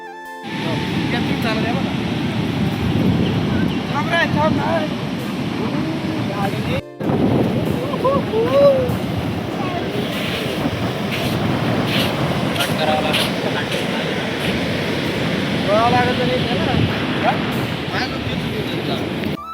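Sea waves washing in at a Maharashtra beach, a broad steady surf roar mixed with wind buffeting the microphone, heard under excited chatter and shouting from a group of people throughout.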